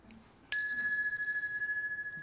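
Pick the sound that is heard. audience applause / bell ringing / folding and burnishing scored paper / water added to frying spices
bell ringing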